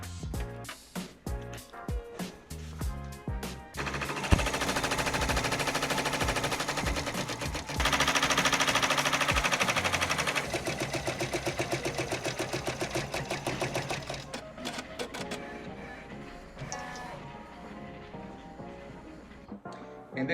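A Brother PR 10-needle embroidery machine stitches nearby with a rapid, steady rattling clatter that runs in long stretches, briefly pauses and shifts speed, loud and close with no talking.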